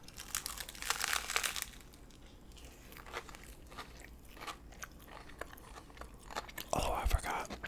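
Close crunching bites into a lunch with chips, with paper crinkling and chewing in a quiet room, and soft whispered speech in between.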